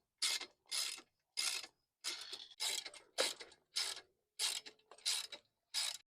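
Ratchet tightening 13 mm bolts on a Ford Bronco bumper, ten quick bursts of clicking at an even pace, near and crisp with silence between them.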